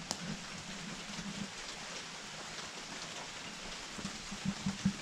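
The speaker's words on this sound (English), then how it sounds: "I'm out for a walk in the rain." Steady rain falls outdoors during a walk, a soft continuous hiss with a few close drips and taps near the end.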